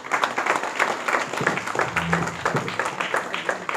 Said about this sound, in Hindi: इस उत्ते भी ताली मौजूद है।